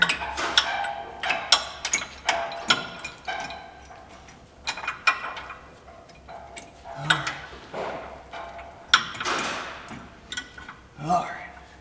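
Bolts are threaded by hand into a Jeep Wrangler JK steering box bracket on the frame side, giving a run of irregular metallic clicks and taps with brief mechanical rattles, close by.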